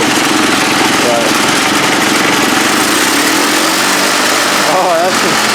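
A small engine revs hard to around 3,600 RPM on a custom build with a loosely mounted muffler, a loud, buzzing, sustained drone with a rattle close by, while someone talks over it.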